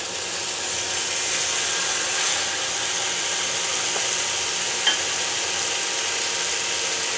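Pork belly frying in a pan gives a steady, bright sizzle that stays even throughout, with a small clink midway.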